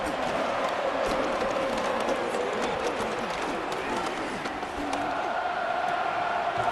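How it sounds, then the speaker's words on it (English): A stadium crowd roars steadily in the Madden 26 football video game at the AFC Championship, Bengals at Chiefs, a dense, constant wash of cheering under a commentator's voice. "This crowd turning up the decibel level"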